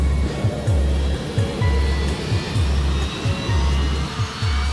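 A Boeing 757 airliner begins its takeoff roll, engines building into a steady broadband roar beneath a loud, regular low-frequency thumping that repeats roughly twice per second.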